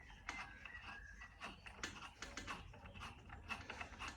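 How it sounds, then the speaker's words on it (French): Ratchet wrench re-engaging screws on a garden shredder, a series of quiet, close clicking strokes in an uneven rhythm, repeated throughout with faint background noise. "Alors, on va prendre le cliquet."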